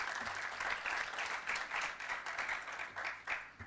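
Audience applause with distinct clapping at a university debating championship in Kampala, rising and falling in light waves as a crowd claps for sponsors, moderately faint and without voices.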